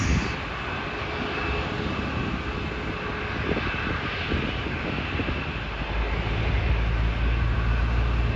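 A Boeing 737 MAX at Ponta Delgada Airport gives off a steady, moderately distant jet engine roar that stays even and deepens slightly toward the end. There is no talk.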